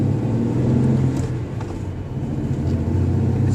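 A 1993 Ford Ranger with a 3-liter V6 and five-speed manual runs steadily, a loud, close, low engine drone with a constant rumbling hum and no talking.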